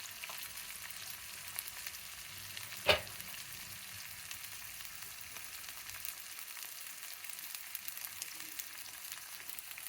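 Onions fry with salt in a pan, giving a soft, steady sizzle throughout with one brief louder clatter early on.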